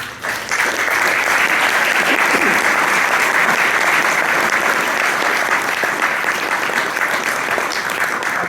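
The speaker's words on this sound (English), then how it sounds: "I'd like to ask you to a round of applause for our panel" A conference audience applauds a panel at a Liberal Democrat Party Conference session, a dense, steady roar of many hands clapping together that stays loud and close for the whole stretch after a brief start.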